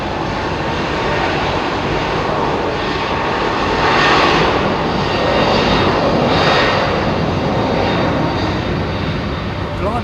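Airliner engines roaring at London Heathrow Airport, a loud, continuous broadband rumble that swells slightly midway, steady throughout with no pauses.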